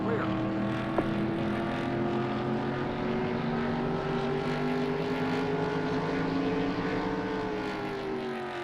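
Steady engine drone with layered, slowly shifting tones, several racing car engines in the 1996 video game NASCAR Racing 2 rumbling together around a big track at a constant level with no pause.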